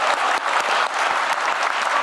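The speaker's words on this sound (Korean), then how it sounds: "박수 좀 많이 좀 쳐주십시오" A dense burst of audience applause at a political town-hall event, many hands clapping loudly and steadily for two seconds with a faint murmur of crowd beneath.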